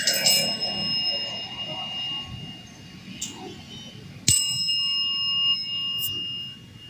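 A service bell rings with a bright metallic ding that lingers and slowly fades. It rings once at the start and strikes again more sharply later on, over faint background noise.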